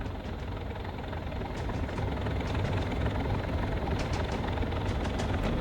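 Diesel locomotive engine in Train Sim World running lightly on the Kyle Line, a steady low rumbling drone with faint periodic clatter, continuous and fairly quiet, no talk.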